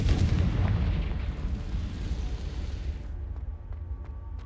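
In the video game Hogwarts Legacy, the Confringo spell goes off in a loud, close, booming explosion with a rumbling burst that fades over a few seconds, followed by faint scattered debris pops.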